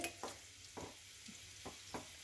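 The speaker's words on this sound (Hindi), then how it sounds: "बस हल्का सा हमें इस तरह से मिक्स कर लेना है।" Boiled masala Maggi noodles stirred in a pan with onions, giving a series of soft scraping strokes spaced about half a second apart over a faint sizzle, quiet and close, with no talking.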